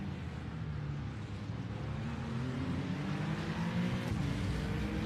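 A GT3 Porsche race car in iRacing at Spa makes a steady droning engine roar with rising tonal whine, fairly faint and continuous, and no voices are heard.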